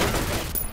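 Gunfire in the F.E.A.R. Extraction Point video game: a short, loud burst of rapid shots that fills the whole brief moment with dense, crackling noise.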